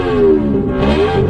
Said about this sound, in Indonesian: Aku kan punya kebiasaan kalau habis nyuci itu mesti motor tak blayer.